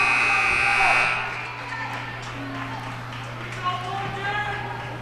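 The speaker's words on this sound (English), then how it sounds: "that's the buzzer" A game-ending buzzer at a girls' high school basketball game sounds for about a second, loud and sustained, then gives way to the roar of the gym crowd.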